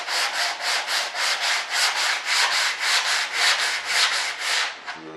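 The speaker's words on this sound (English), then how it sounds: "I need to stop where I start to sand through." A wooden edge on an RC jet model of a B-1 bomber is sanded by hand, heard as close, steady back-and-forth rasping strokes in an even rhythm, with no talk.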